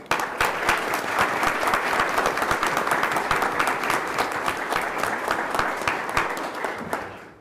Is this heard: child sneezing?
no